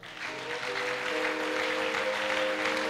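A church congregation applauding during a French-language worship service, a dense steady wash of clapping filling the room for the full length, with sustained organ or keyboard tones held underneath.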